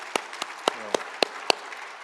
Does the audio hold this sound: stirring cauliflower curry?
no